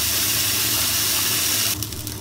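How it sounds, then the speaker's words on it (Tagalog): A little water poured into a hot pan with fried fish, garlic, ginger and cooking wine, giving a loud steady hiss and sizzle that drops away near the end, close up with no talk. "Then lagyan ng konting tubig."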